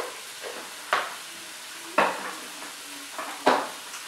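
A Babycook baby food maker heating an apple, mango and vanilla compote gives off repeated sharp hissing, sputtering bursts roughly a second apart over a steady low background hiss, close and moderately loud.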